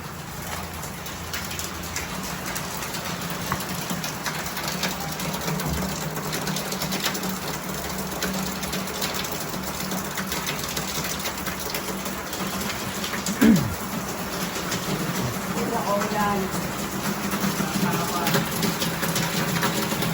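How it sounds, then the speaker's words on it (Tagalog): Steady rain hisses continuously on surfaces nearby, a dense, even wash of sound with a brief bump partway through. "lumakas na naman bigla yung ulan"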